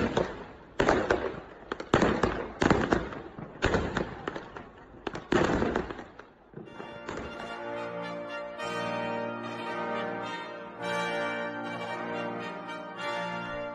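A homeowner sets off fireworks: a rapid run of loud, sharp bangs and crackles over the first half, then the bursts give way to a continuous tonal roar and whistle that carries on to the end.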